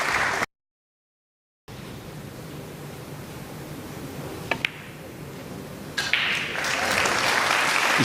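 A crowd applauding at a professional pool match at the European Open, a broad steady wash of clapping that starts after a short silence and swells slightly toward the end.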